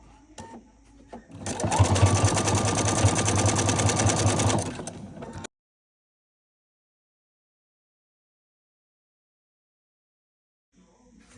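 A sewing machine stitches around a coiled jellyroll fabric strip forming a bowl, a loud steady whirring run of about three seconds that stops abruptly, followed by near silence.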